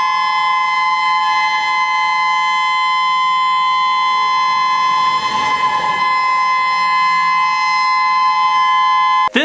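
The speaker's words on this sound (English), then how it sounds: "we have the tsunami siren in Maui" A civil defense tsunami warning siren in Maui sounds a steady, loud, sustained wailing tone that holds its pitch throughout without pause.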